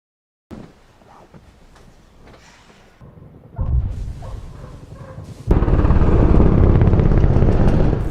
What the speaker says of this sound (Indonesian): Di jam 2 malam, tiba-tiba Sarah terbangunkan suara helikopter yang sangat keras